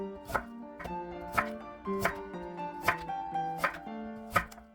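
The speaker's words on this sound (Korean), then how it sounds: "무 800g 채 썰어 주세요." A knife chops 800 g of radish into thin strips for a squid salad, with about seven crisp, evenly spaced strokes on the board, close and alone.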